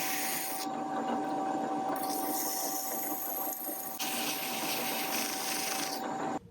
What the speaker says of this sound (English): Then I started sanding with 120 grit sandpaper